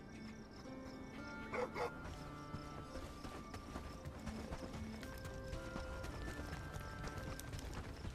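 A dog barks and yips in the medieval village-building game Bellwright, short repeated barks amid game music and ambient sounds, with what may be hoof clip-clops nearby.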